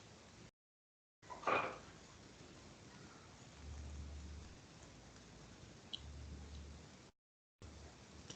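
A recorded rainstorm with steady rain hiss and low rumbles of thunder plays faintly, broken by short gaps of silence and a sharp crackle near the start.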